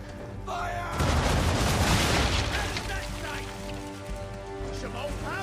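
A deep booming volley of ship cannons fires a full broadside during Assassin's Creed 3 naval combat, erupting loud and rumbling after a short lead-in, then trailing into scattered blasts and crackle while a voice talks over it.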